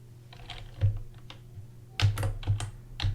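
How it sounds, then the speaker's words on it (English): Rapid keystrokes on a computer keyboard during a programming session: a few scattered clicks, then denser bursts of typing, close and fairly quiet over a low steady hum. "So hold shift and start typing selection."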